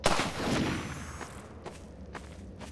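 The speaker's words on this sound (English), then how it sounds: "Oh, it's a sniper." Sniper gunfire in Half-Life 2: a loud shot at the start trailing into a rumble, followed by a few fainter sharp cracks and impacts.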